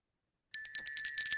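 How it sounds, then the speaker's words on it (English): A rapid trilling bell rings during a live trading stream, a bright, metallic, steady ring that starts abruptly and continues alone at close range. "Looks like we even got it in kind of fast before the bell even went off"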